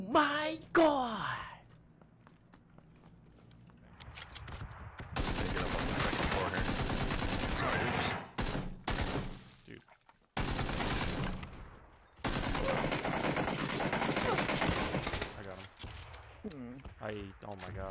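Automatic gunfire from the video game PUBG bursts in long, loud, dense volleys with short gaps between them, while players shout and talk excitedly under and around the shooting.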